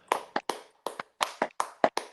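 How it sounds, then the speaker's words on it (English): Hands clapping close up in a small room, about a dozen sharp, dry claps in a loose, uneven rhythm, grouped in pairs and bursts with silent gaps between, no talk. "Clap it up, Jason"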